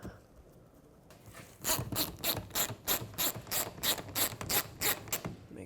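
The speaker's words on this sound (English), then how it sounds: "Slide it down, just like that, and put the screw through it." A screw is driven through a mud flap clip on a 2009-2014 Ford F-150 pickup with a ratcheting tool: a steady run of about a dozen crisp, evenly spaced mechanical clicks, close and distinct, following a quiet pause.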